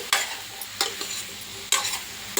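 A spoon stirring a cucumber and tomato curry in a hot pan, three distinct scraping strokes with soft sizzling between them, close and alone without any talking.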